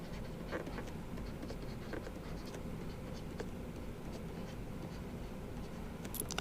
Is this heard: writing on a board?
yes